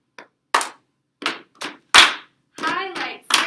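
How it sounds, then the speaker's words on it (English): Rhythmic hand clapping in a classroom during a call-and-response review song, sharp claps in uneven bursts with gaps between them, close and fairly loud. "clap along when you get the beat"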